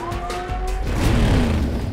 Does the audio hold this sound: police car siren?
yes